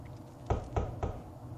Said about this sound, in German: das ist eine Klingel, die sich anhört wie ein Klopfen